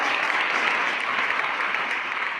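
A church congregation at a Baptist service claps together, producing a loud, steady, dense burst of applause that fills the space for a couple of seconds before fading slightly.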